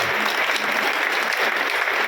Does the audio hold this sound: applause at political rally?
yes